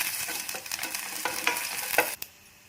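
Mustard seeds, dried chillies, garlic and curry leaves frying in oil for tomato rasam, a bright sizzle with crackling pops and stirring scrapes. It quiets abruptly near the end.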